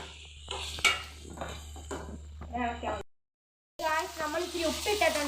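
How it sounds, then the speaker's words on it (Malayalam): Masala sizzles in a pan for a prawn curry while a spoon scrapes and clatters as it is stirred. The cooking sounds run under intermittent talking, then cut out briefly before the sizzle and stirring return. "നമ്മൾ ഇനി ഇത് നന്നായിട്ടൊന്ന് ഇളക്കി കൊടുക്കാം"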